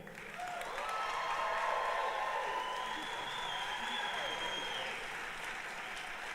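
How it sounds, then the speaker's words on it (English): Graduates at a spring convocation ceremony applaud their families, friends, faculty and staff, a broad, distant-sounding wash of clapping from a large crowd, fairly quiet and sustained, with faint voices mixed in. "I invite you, the graduates, to applaud your family, friends, faculty, and staff who've helped you along the way."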